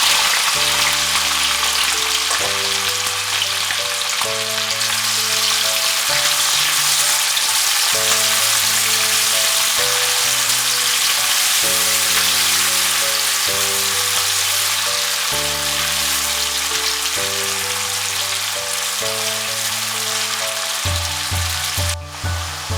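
Sliced onion fries with bay leaves, cinnamon and cumin in hot oil, giving a steady, loud sizzle throughout with no pauses while background music plays over it.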